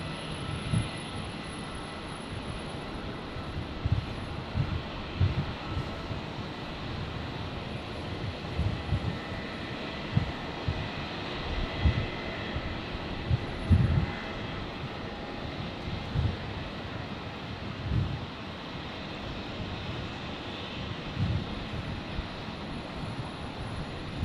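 Qantas flight 1894 departing Brisbane airport, a continuous low jet rumble with wind buffeting the microphone and irregular gusty thumps, no speech.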